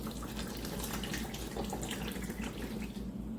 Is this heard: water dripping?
yes